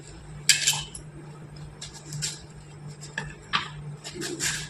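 A knife cuts potatoes into thick slices for homemade potato chips, giving several sharp, close cutting and tapping strokes at irregular intervals over a quiet kitchen background, with no talking.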